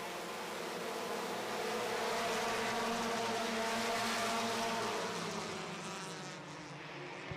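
Race cars roaring around the track during a feature race, a dense sustained engine drone of several cars with rising and falling pitch, loud and continuous with no talk.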